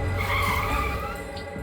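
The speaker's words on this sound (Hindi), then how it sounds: "ए, गाड़ी रोक।" A car skids hard to a stop, a loud sustained tire squeal with engine rumble lasting over a second and fading slightly at the end, with no voices.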